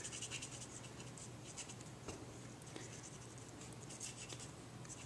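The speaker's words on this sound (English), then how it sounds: "I'm just kind of coloring in where the images kind of just beg for a little color" A pen scratches steadily across an embossed vellum card while coloring in images, making soft, close strokes in a continuous, faint rhythm over a low background hum.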